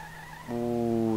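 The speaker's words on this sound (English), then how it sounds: "Car drifts so nicely." Worn-engined car drifting in the Street Legal Racing Redline game: a steady, loud, high-revving engine drone with squealing tires that jumps up sharply partway through and holds.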